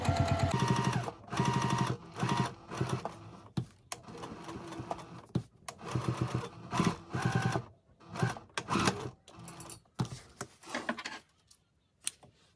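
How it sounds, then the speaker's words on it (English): A sewing machine stitches a quarter-inch pocket seam on a memory bag, running in repeated bursts of rapid mechanical chatter with short pauses between runs, close and fairly loud. "Let's sew the second pocket"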